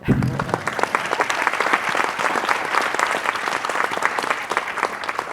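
An audience at the Healthcare InnoMatch 2023 event bursts into sustained clapping, dense and close, running steadily for several seconds after a brief voice at the start.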